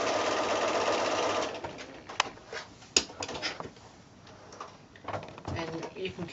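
A sewing machine stitching a quilt block along a drawn line, a loud close mechanical whir for over a second, then stops, followed by clicks and handling sounds of the fabric.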